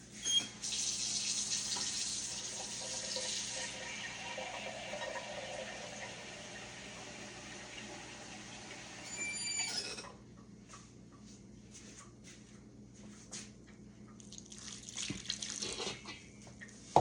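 A kitchen tap runs water for about ten seconds with a steady hiss and splash, then shuts off, leaving quieter clinks and handling sounds nearby.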